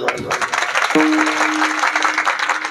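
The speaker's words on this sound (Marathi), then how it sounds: "टाळी वाजवा" A crowd at a kirtan claps loudly and steadily, dense and continuous, while a sustained musical tone rings underneath partway through.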